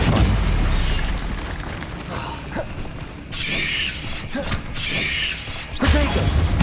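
A Confringo fire spell bursts in a Hogwarts Legacy battle on PS5, several loud booming blasts with crackling, mechanical rattles and bright whooshes layered over a dense game soundscape.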